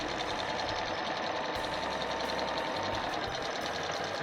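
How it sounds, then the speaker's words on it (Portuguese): A sewing machine runs steadily for about four seconds with a continuous mechanical whir and rhythmic needle knocking, stitching a small cushion and then reversing for a backstitch, close and alone. "Segura as linhas, costura um pouquinho, retrocesso."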